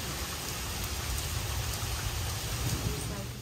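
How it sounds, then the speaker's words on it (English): Heavy rain pours down outside, a steady dense hiss with rumbling low-end texture and constant spattering that holds loud and unbroken throughout. "It is like raining so loud outside."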